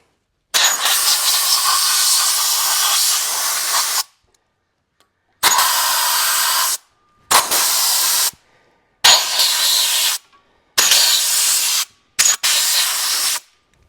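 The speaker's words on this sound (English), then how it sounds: "use a little compressed air and blow that out" Compressed air blasts cleaning out the rubber boots of a WolfeRidge Pro C 28 log splitter, a loud close hiss in one long burst followed by several shorter repeated bursts with brief silences between them.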